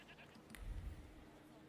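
Goats bleat faintly at a distance on a farm, a couple of short cries over low rumbling background noise.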